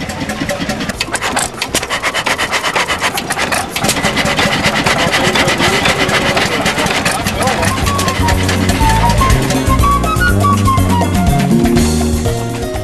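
An antique stationary engine chugs steadily and continuously up close, its rhythmic mechanical beat loud throughout, with some tonal notes and background voices mixed in.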